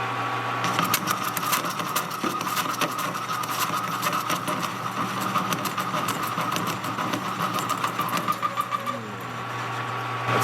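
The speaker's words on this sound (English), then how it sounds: "It's cutting out those old threads and it's not liking it." A lathe's carbide cutter cutting out old threads on a track adjuster spring, a continuous loud grinding chatter with a high ringing tone over a steady motor hum, heard without talk.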